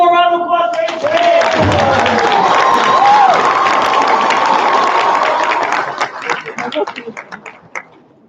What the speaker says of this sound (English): Can we give one more round of applause for